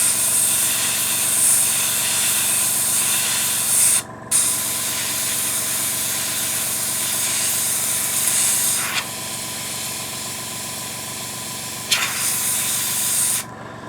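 A compressor-fed airbrush sprays paint onto a scale model tank, giving a steady close hiss that runs almost continuously, cut off briefly twice and dipping at a few moments, with no voices.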